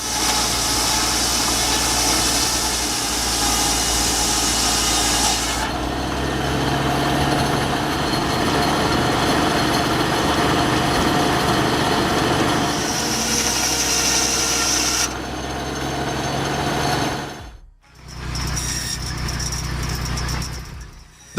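A homemade firewood processing machine runs continuously with a loud, steady mechanical drone and engine hum that shifts tone partway through. The sound drops out abruptly for a moment near the end, then resumes.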